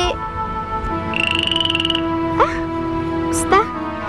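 A frog croaks in a rapid pulsing trill, then gives two sharp rising calls, close and clear over a background of steady tonal hum.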